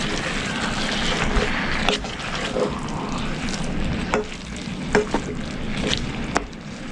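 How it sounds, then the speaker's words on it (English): Shepherd's pie filling with tomato paste is stirred around in a pan: a steady low sizzle with intermittent sharp scrapes and knocks of the utensil, close and fairly loud. "we're going to stir this up around"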